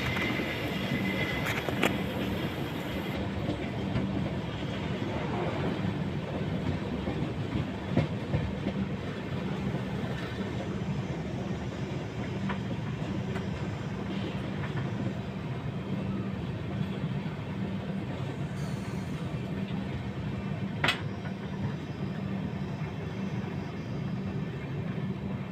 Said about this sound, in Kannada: ಮಾಲೂರು ಆದಮೇಲೆ ಟೆಕ್ಕಲ್ ರೈಲ್ವೆ ಸ್ಟೇಷನ್ನ ಸ್ಲೋ ಆಗಿ ಸ್ಕಿಪ್ ಮಾಡ್ತಿದೆ ನಮ್ಮ ಟ್ರೈನು